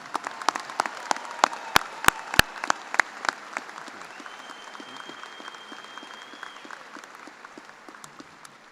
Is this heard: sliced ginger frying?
no